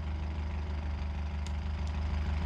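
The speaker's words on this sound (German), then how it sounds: "Also an sich läuft der Motor auch noch" A damaged ETK A-series car engine idles in the BeamNG.drive video game, a steady low drone with faint ticking pulses, even and unchanging throughout.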